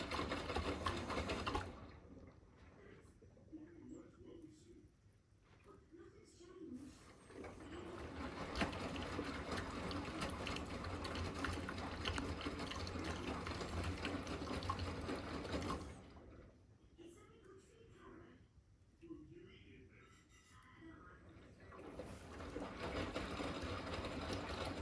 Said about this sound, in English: Uses an awesome amount of water in the rinse